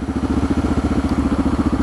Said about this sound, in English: It's really burpy if you decel on your engine